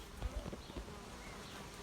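A swarm of honey bees in Lauder during a spell of constant rain, a faint, diffuse buzzing hum with a few low thumps, quiet and brief.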